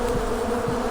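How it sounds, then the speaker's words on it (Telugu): Insects buzzing, bees or flies in the horror video game The Butterfly, a steady close droning hum under a wash of background noise. "ఏగలా లేకపోతే తేనెటీగలా ఇవి?"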